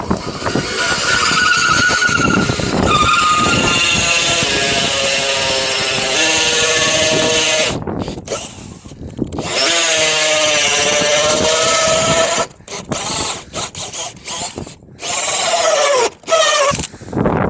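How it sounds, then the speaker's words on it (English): A hole saw drill whines loudly and grinds steadily with shifting pitch, pausing briefly several times as the cut is backed off to clear chips and restarted. "Keep backing out this hole saw just to give it the chips a place to go."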